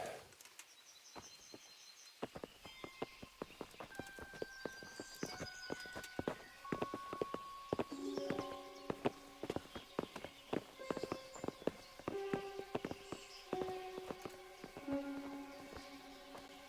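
Horses walking in the Kingdom Come Deliverance video game, hooves clopping in a steady irregular rhythm that grows busier over time, with birds calling and sustained musical tones in the background.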